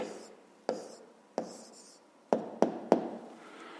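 A pen writes an answer by hand on paper during a fifth-grade maths exercise, giving quiet scratching with six sharp taps and strokes spaced irregularly over a faint background.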